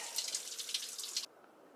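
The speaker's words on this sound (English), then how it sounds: "Just dripping right out of the rocks and roots up there." Spring water drips from rocks and roots into a bucket on a Pacific Crest Trail hike, a quick run of bright close drips and trickles that stops abruptly.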